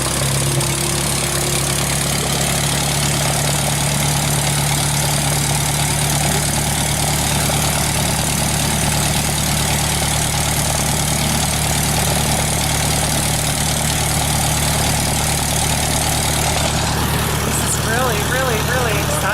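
A Wright B Flyer replica aircraft engine idles before takeoff, a loud steady low drone with a constant hum that runs throughout, close by, with faint voices near the end.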